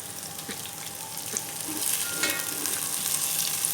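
Shredded cabbage tipped into a pan of lightly fried garlic, giving a steady close sizzle and frying hiss that swells slightly as the vegetables hit the hot oil, with a few stirring scrapes.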